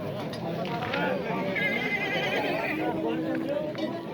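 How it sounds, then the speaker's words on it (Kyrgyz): A black male foal neighs with a whinny at a livestock market, set among hoof clip-clops and crowd noise. A person talks over it. "кара эркек кулуну бар экен"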